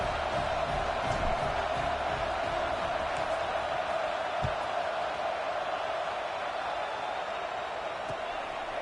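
A stadium crowd murmurs in the video game College Football 26, a dense, steady roar of distant voices that never rises into a cheer, with a few faint thuds.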